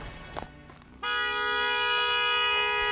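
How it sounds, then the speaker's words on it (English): A car horn sounds from about one second in and holds as a loud, steady, continuous honk to the end, following brief quieter noises and movement at the start. "Alright, so you're just honking."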